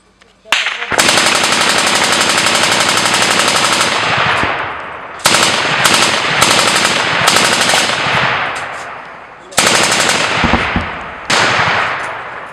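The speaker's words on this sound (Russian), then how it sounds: "Зараз почалася перестрілка." Loud bursts of automatic gunfire rattle in long sustained volleys, broken by brief pauses and a few single shots, close and harsh, during a frontline firefight in Pisky.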